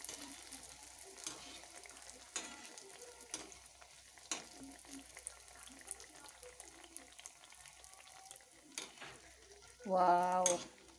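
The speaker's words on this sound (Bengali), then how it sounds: "চলো মালপোয়াগুলো ভাজি" Malpua fry in hot oil with a soft, low bubbling and scattered light crackles and clicks. A short burst of voice rises briefly near the end.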